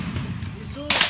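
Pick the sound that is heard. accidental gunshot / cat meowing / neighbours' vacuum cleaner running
accidental gunshot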